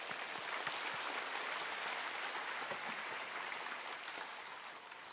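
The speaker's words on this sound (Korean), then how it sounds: "하나님께 영광의 박수를 올려드립니다" A church congregation breaks into sustained applause, a dense, even roar of many hands that continues for several seconds before easing slightly.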